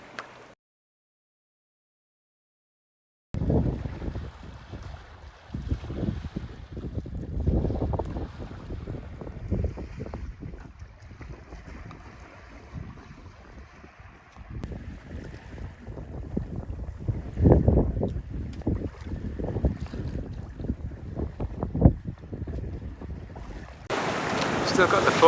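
A SunFast 37 sailboat under full main, sailing solo in calm conditions at about 8 knots, with steady wind buffeting the microphone and water washing along the hull in uneven surges, growing louder and hissier near the end.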